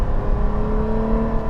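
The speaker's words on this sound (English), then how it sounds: "floor it like this and" A Toyota 4Runner SR5 engine roars close and loud under full throttle, a steady, strained drone holding its pitch through the short burst.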